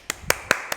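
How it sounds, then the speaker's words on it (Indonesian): Four sharp hand claps ring out at an even, quick pace, close and crisp, with near silence between them. "Tepuk tangannya lebih kenceng dong."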